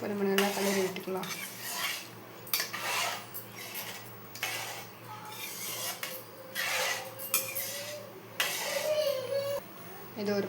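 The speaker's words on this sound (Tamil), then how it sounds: "இப்போ நம்ம நல்லா கலரி விட்டுக்கலாம்." A spoon stirs muruga keerai sambar with lentils in a metal cooking pot, giving repeated scraping, clinking strokes in irregular bursts, close and clear over a low steady hum.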